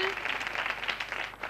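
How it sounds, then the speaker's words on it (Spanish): Applause from a television studio audience after a team score is announced on a Spanish-language game show, a steady patter of clapping that stays fairly even and moderately loud throughout. "Y ahora, muy bien, aplausos, aplausos."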